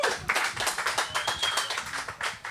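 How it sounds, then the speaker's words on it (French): A small audience at a French-language talk show claps for guests, a brief patter of hand claps with uneven rhythm, fairly close and fading slightly toward the end. "puis Bruno, on les applaudit?"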